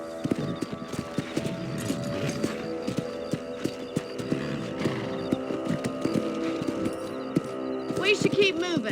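Horses gallop with steady, rhythmic clip-clop hooves in the Western game Red Dead Redemption, loud and close throughout, with game music and a short spoken exchange over the riding near the end.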